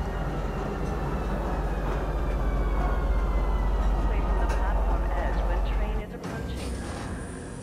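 Metro train in the Star Citizen video game pulling into a station: a steady loud rumble and rolling hum that drops off around six seconds, followed by a high sustained electronic tone as the train settles.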